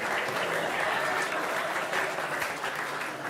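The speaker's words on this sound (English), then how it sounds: "Give him a round of applause." A church congregation applauds, giving dense, even clapping that holds steadily through the moment at a moderate, slightly distant level.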